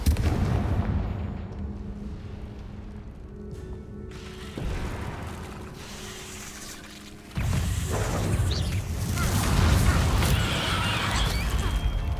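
Explosive Confringo blasting curse in Hogwarts Legacy, heavy booming impacts with rumbling debris and mechanical clatter, sudden bursts over a low game soundscape.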